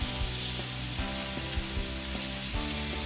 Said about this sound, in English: Now as for our grouper here, straight into this hot pan.